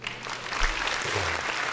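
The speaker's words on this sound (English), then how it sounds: "Round of applause." A short burst of clapping on a casual podcast, brief and fairly even, with low voices or murmuring underneath.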